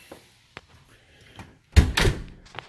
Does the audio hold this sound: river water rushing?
no